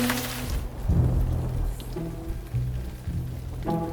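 Rain falls outside in a steady patter, with low rumbles breaking through in bursts and brief tonal sounds between them.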